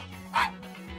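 A small cartoon dog gives a short yipping bark in the middle, with a steady low hum of background music running underneath.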